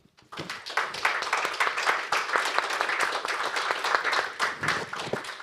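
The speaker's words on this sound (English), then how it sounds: "let's thank them all with a round of applause" A conference audience gives sustained applause for a panel of experts, dense clapping starting abruptly and holding steady for several seconds with no voices over it.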